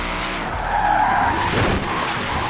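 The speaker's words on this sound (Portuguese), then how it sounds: "Vamos fazer um driftão aí, ó." Tyres squeal continuously as a Ford F150 drifts in the Forza racing game, the engine roaring underneath the loud, sustained skid with no speech.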